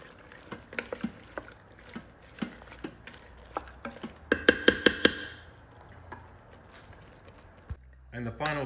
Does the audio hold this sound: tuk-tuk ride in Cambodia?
no